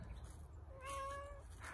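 A cat stuck high up in a tree, some 16 to 20 feet off the ground, lets out a single drawn-out meow, faint and distant over low outdoor rumble.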